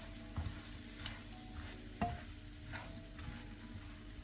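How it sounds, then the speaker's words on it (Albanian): A spoon stirs a potato mixture seasoned with salt and red pepper as it fries in a pan, giving a quiet, soft sizzle with a few faint scraping knocks, heard alone. "Përzijmë."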